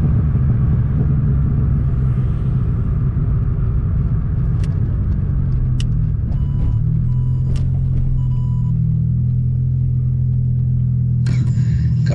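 Car pulling up with a deep engine rumble, close and steady, easing in pitch as it arrives, with brief beeps and clicks over it near the end.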